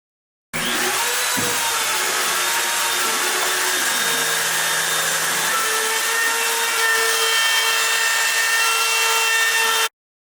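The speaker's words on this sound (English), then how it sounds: "Let's start by cutting the pieces on my CNC machine." A CNC machine cuts wooden pieces for a smoker, with a steady, loud, continuous whine and hiss of the spinning bit and dust extraction running throughout, starting abruptly and stopping just before the end.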